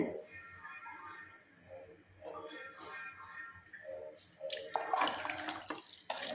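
Seven tumblers of water pour steadily into a pot of rice for sambar rice, a soft splashing flow that grows louder near the end, with faint background noise.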